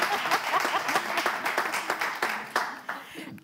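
A studio audience claps at the start of a French television show, a moderate burst of applause with distinct individual claps, a voice speaking over it and the clapping thinning out toward the end.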